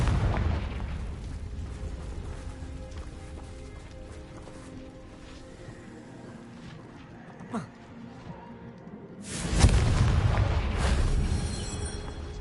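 A Confringo blasting curse from the Hogwarts Legacy video game: one loud, broadband blast bursts in near the end, with a small pop shortly before it, over a steady wash of game ambience.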